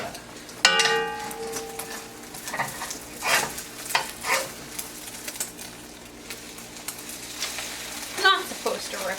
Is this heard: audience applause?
no